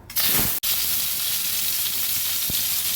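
Prawns hitting hot mustard oil in a kadai give a loud, steady sizzle that starts abruptly, cuts out for an instant, then carries on as a continuous close hiss with a brief low pop near the end.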